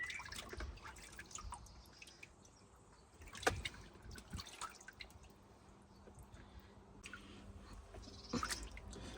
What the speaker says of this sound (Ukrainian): Мию абрикоси.